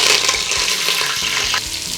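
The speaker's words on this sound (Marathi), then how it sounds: "ह्याच्यात टाकणारे आपण मोहरी बघा तेल तापलं तर फोडणी छान बसते" Mustard seeds crackle and sizzle in hot oil, a dense close hiss with small popping bursts throughout.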